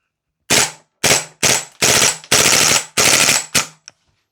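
Vorsk VMP-2 gas blowback airsoft rifle firing in several loud full-auto bursts of sharp cracking shots, close to the mic, ending with a single shot.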